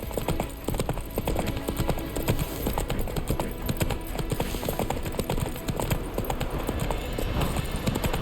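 Hooves of the horse Roach clip-clop at a steady walking rhythm on the ground in The Witcher 3 video game, close and continuous over quiet ambient game sound.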